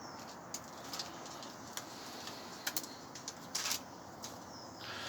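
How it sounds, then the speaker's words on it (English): Birds feeding in a back garden in the morning, heard as faint wing flutters and soft scattered chirps over a quiet, hissing outdoor background. "They're so beautiful birds. And all they just do is just feed all day."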